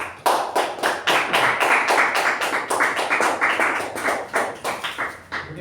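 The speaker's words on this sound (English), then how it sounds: "Give her a big round of applause." Audience at a Toastmasters meeting applauds with loud, steady clapping that keeps going for several seconds before thinning out toward the end.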